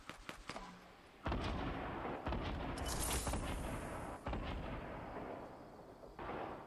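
Gunfire and explosions in a Fortnite match: dense, sustained bursts of shots and booms after a quieter opening second, rolling on continuously with no talk over them.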